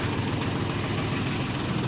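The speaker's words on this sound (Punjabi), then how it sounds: "ਲੋ ਜੀ ਡੈਡੀਆਂ ਟਰੈਕਟਰ ਮੋੜਨ ਲੱਗੇ" A tractor engine runs steadily at a low, rumbling idle while the tractor is turned around, with a constant heavy drone and no break in the sound.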